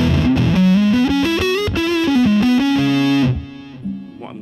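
An electric guitar run through a fuzz pedal captured on a Quad Cortex plays a loud, thick, saturated melodic line with sliding notes, then a held note fades out.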